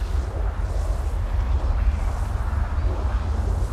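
An explosion in the video game Anthem, heard as a low, rumbling boom with a rolling, sustained bass tail. It sits at moderate loudness and has no talk over it.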